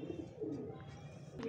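A newly paired pigeon couple gives soft, low cooing murmurs, faint and close, over a quiet indoor background hum.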